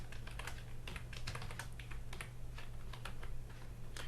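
PHP code being typed on a computer keyboard: quick, irregular key clicks run steadily throughout, close and fairly quiet, over a low hum, with no talking.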